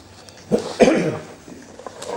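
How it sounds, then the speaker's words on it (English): At a numismatic society meeting, a person lets out a few rough coughs and throat clears in a room, moderately close, in two or three short bursts with quiet room sound between. "Bad cough. Can you cough into your elbow?"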